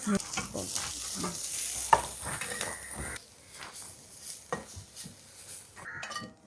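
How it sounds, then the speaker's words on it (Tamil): Sliced onions sauté in a pan until golden for Arabic mandi biryani, giving a steady crackling sizzle with a spatula scraping and clinking against the pan, louder in the first half, then quieter frying. "இந்த வெங்காயத்தை போட்டு பொன்னிறமாக வதக்கிக்கிறேன்"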